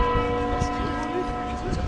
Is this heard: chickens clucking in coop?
no